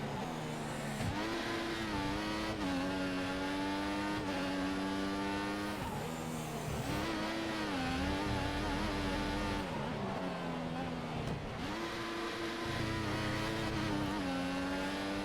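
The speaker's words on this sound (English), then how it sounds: "Really sliding, spinning up the tires here." An F1 car in the F1 2014 video game spins its tyres and slides through a qualifying lap, its high engine whine rising and falling steadily with occasional squeal, continuous and loud throughout.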